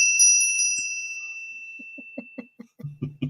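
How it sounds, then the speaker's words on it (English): A bell rings out loud and clear at the start with a bright, sustained tone that slowly fades over about two seconds, followed by soft laughter and chuckling. "We're going to ring the bell anyway."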